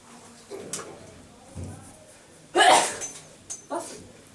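A single sharp sneeze bursts out in a classroom during a physics lesson, loud and close, standing apart from scattered quieter speech and room noise before and after it.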